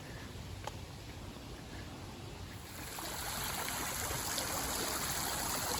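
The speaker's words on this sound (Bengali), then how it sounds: "পানির শব্দটা খুব ভালো লাগে" River water flowing past near a home at dusk, a steady soft rush that swells louder partway through and then holds even, with no talking.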